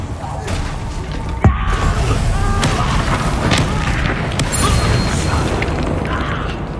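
A Confringo fire spell blasts in the video game Hogwarts Legacy, a sharp boom that rises briefly out of loud, dense, continuous game noise.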